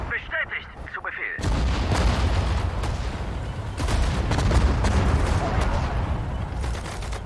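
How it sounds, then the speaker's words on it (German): After a brief shouted command in German, a sustained barrage of artillery fire erupts in the PC game Sudden Strike 4, with dense overlapping booms and blasts continuing loudly throughout. "Artillerie! Feuer!"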